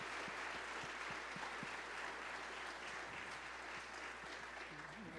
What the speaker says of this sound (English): let's just give them a round of applause and acknowledgement of their service